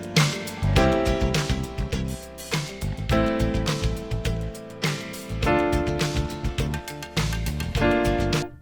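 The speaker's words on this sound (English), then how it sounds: "Now if I play the song with the piano," Piano plays a sequence of sustained chords, each struck firmly and left to ring before the next, at a steady moderate pace.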